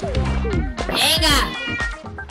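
A cat in the video game PK XD meows several times in quick succession, loud and close, with a voice talking over and between the meows.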